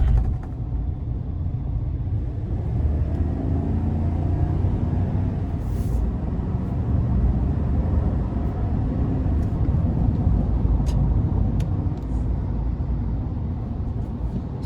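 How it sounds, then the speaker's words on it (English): A 2021 GMC Sierra 2500HD AT4 pickup with the 6.6-litre gas engine accelerates onto an interstate, giving a steady low engine drone and road rumble heard from inside the cab, with brief faint clicks over the top. "We're going to give it a little bit of throttle, merging onto the interstate."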